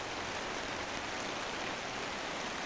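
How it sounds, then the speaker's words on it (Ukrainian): Steady, dense hiss of rain falling, even and continuous with no pauses. "Чуєте, як дощик іде."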